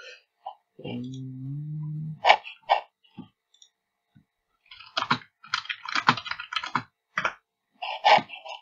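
Sharp computer keyboard typing in irregular bursts of clicks and taps, close and moderately loud, with a brief voiced hum early on during a Pokémon game session.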